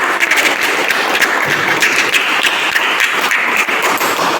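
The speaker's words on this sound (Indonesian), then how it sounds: "tepuk tangan dulu untuk kelompok" Steady applause from a classroom full of people for a student group's presentation, continuous and fairly loud, with no voices over it.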